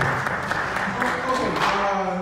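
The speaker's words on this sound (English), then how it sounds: "Please give her a big round of applause." A town hall audience in Minneapolis applauds a donor: steady clapping runs throughout, blended with a voice speaking over it.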